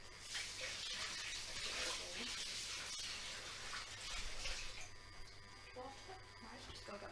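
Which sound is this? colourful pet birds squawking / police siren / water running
water running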